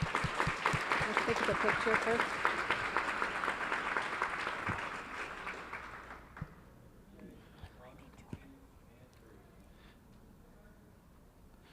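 Audience applause at a school board meeting, dense and steady clapping for about six seconds before thinning into scattered claps, with voices talking over it.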